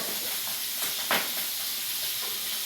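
Cooking oil splattering and sizzling in a hot pan in a small home kitchen: steady broadband hiss throughout, with a few brief louder pops and spits, close and alone.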